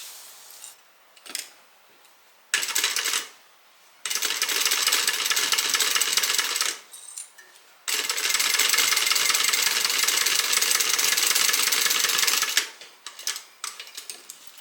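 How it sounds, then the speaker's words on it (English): A sewing machine top stitches a leather bag in three sustained loud bursts of rapid mechanical chatter. Short quiet pauses and faint handling sounds separate the bursts. "we are going to top stitch"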